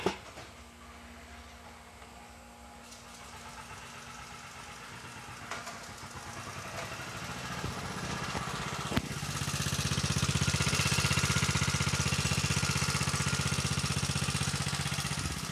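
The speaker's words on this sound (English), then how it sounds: "start the engine, then he'll pull the belt off, and it's running on nothing but water gas" An engine running on water gas idles with a steady hum, then speeds up into a louder, rougher running drone after a sharp knock.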